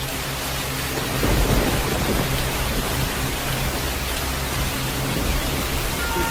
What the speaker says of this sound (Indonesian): turun hujan gerimis